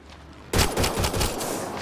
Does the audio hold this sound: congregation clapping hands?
no